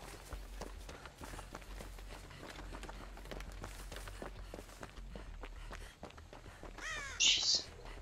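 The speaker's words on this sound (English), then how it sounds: "Quiet, bird. You're gonna give her away." A crow in the Dead by Daylight horror game gives a short, loud burst of harsh caws near the end, over steady running footsteps and dim ambient noise.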